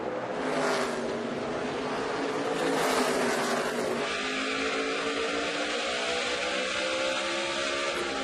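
Loud, continuous roar of NASCAR stock cars racing three wide into a corner at Richmond, several cars passing together with a shifting engine pitch throughout.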